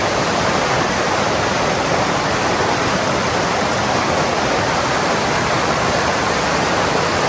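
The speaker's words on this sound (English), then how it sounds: "Hopefully you guys can hear me over the sound of the creek that I'm standing over right now." Steady, dense rushing of flowing creek water, close and constant, filling the whole stretch with no other sounds.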